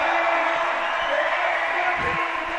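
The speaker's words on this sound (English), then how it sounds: "Huge cheer from the crowd there, because one of their own, Petra Klingler, has just topped at Boulder 3" Spectators at a bouldering World Cup semifinal in Meiringen cheer and whoop loudly and steadily for Swiss climber Petra Klingler as she tops a boulder, a dense crowd roar throughout.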